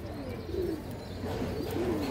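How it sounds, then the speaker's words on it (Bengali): A large male pigeon coos in low, rolling phrases, repeating several times close by over a steady background hum, with no talking. "বড় সাইজের একটা নর কবুতর"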